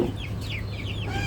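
Chickens cluck repeatedly in a farmyard at feeding time, short rising calls overlapping in a steady flock chatter with a low background hum.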